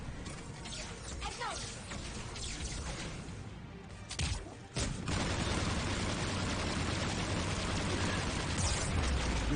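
Gunfire in the Mass Effect 3 shooter clatters in dense, overlapping bursts with sharp impacts and loud sustained battle noise. A brief lull breaks up the firing, and voices talk over the combat.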